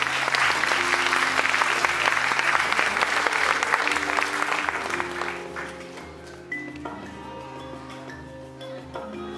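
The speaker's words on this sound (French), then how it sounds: "Et on l'applaudit très très fort." Audience applause at a live show, loud and dense for the first five seconds, then thinning and fading, with music tones continuing underneath as the clapping dies away.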